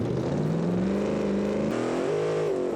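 A race truck engine in BeamNG Drive runs steadily and loudly, with the tone slowly climbing in pitch as revs build, then dipping and rising again, with no talking.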